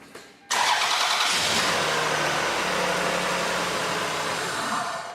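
A Toyota Highlander car engine cranks and catches after a short pause, then runs loudly at a steady, slightly rough idle close by.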